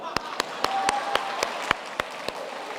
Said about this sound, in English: I can see the family clapping already.